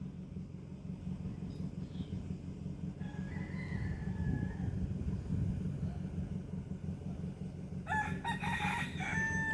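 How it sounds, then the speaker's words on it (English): A rooster crows on a sunny day in the British Virgin Islands, faint and somewhat distant, heard a couple of times over a low rumble of background traffic, with a sharper brighter crow near the end. "Just listen to the rooster crowing"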